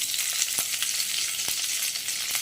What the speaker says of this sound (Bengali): এটাকে একটু ভালো করে ভেজে দিতে হবে। কাঁচা লঙ্কাটা দিয়ে দেবো এবার